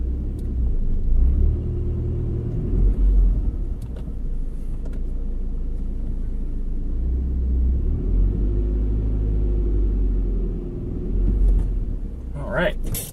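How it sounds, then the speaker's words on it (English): Pickup truck with a Flowmaster 40 series exhaust rolling in a noisy reverse gear, a steady, close low engine rumble with gear drone throughout and a brief mechanical whine near the end. "My noisy reverse gear."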